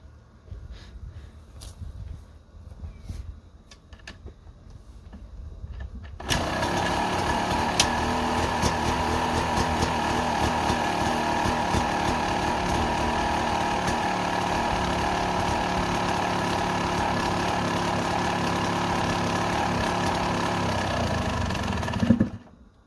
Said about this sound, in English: we're gonna go ahead and fire it up real quick, and then we're just gonna watch it for a second